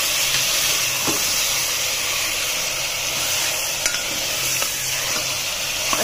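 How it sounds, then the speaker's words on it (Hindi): Mutton sizzles and fries steadily in a pan while it is stirred for stew, with faint scrapes and knocks of the spoon over a constant loud hiss. "मटन डालने के बाद हमें इसको अच्छे से चलाना है।"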